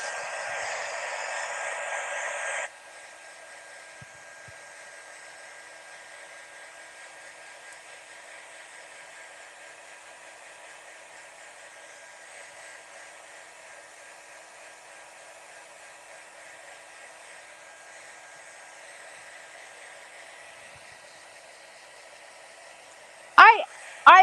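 A hair dryer blows steadily for about twenty seconds, loud at first and then quieter but continuous, drying enamel paste, with a brief clatter near the end.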